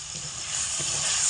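A small splash of water hits chili powder and other ground spices frying in oil for a tomato potato curry, producing a soft, continuous hiss that swells gradually and stays fairly quiet throughout.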